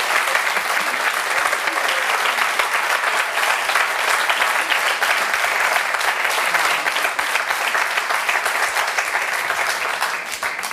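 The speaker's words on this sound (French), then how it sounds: "Sous les applaudissements, s'il vous plaît." An audience at a French TV show applauds steadily, a dense wash of clapping that runs without a break and eases slightly at the very end.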